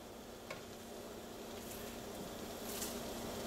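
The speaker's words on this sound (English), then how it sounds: "Here I have a pot of boiling water. I'm just going to add a little vinegar to it" A pot of boiling water with about a tablespoon of vinegar added simmers quietly, a faint continuous bubbling hiss with a few small splashes, and no one talking.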